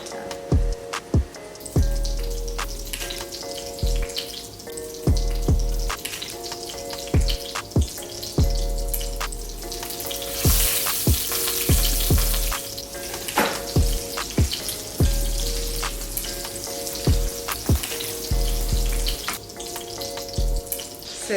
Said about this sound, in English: I've got some more frying in the background. You can probably hear it sizzling.